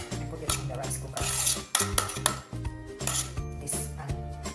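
Macaroni goes into a rice cooker pan with a run of close metallic clatters, scrapes and clinks of a utensil against the pan, in irregular bursts with short pauses.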